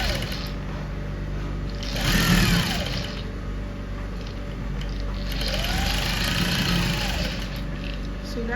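A sewing machine stitches together the panels of a structured transparent corset at a steady hum, running close and moderately loud with a slight swell partway through, while a person talks over it.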